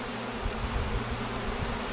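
A dense, steady drone of many honey bees buzzing at an open farm hive, close and continuous with a low humming hum and no voices.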